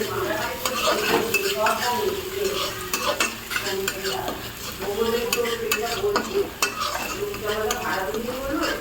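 Pav bhaji with green chili paste sizzles in a pan while a utensil stirs and scrapes it in a steady, repeated rhythm, close and busy throughout.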